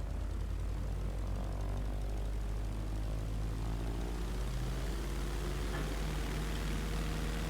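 Airliner taxiing after landing in Microsoft Flight Simulator 2020, a steady droning engine hum with low rumble held at an even level throughout, with no voices.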